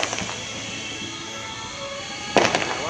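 New Year's Eve fireworks boom in the distance, a soft rumble of scattered bursts followed by one louder, sharper crackling explosion near the end, with no talk.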